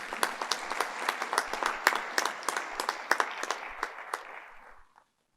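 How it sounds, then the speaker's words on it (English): Warm applause from a secondary schools forum audience after a charity fundraising total is announced, steady and fairly close with crisp individual claps standing out, tapering off and fading to silence near the end. "round of applause"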